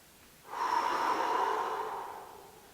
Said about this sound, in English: I'm taking a big breath in.